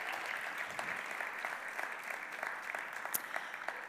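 Steady audience applause at a French marketing awards ceremony, congratulating gold winners, with many hands clapping continuously and a few sharper individual claps standing out near the end.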